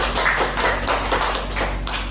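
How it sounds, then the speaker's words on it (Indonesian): Classroom applause for a student, a run of quick hand claps and taps spread across the moment, fairly close and steady with no talk over it. "tepuk tangan untuk Jangan"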